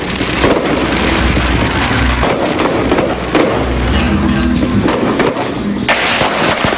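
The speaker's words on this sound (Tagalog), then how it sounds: "para panoorin ang magarbong fireworks display" Loud New Year's fireworks crackling and booming in rapid succession at a mall in Lipa, Philippines, a dense continuous barrage of bursts with distant crowd noise.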